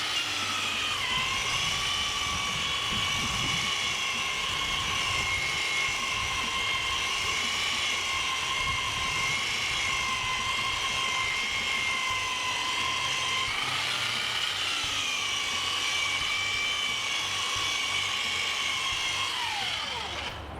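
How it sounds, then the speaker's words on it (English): A belt sander, turned down to a low speed setting, grinds a tread block off a dirt-racing tire, giving a steady, loud, continuous whine with a stable pitch throughout that drops off at the very end. "we actually turn the tire around so we can grind that tread block off"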